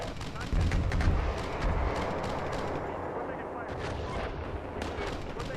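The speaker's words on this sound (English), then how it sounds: "We get some mortars on them. We're taking fire here." Video game battle with mortar and gunfire, dense continuous rumbling blasts and crackling shots filling the scene at steady loudness, with voices talking over the combat.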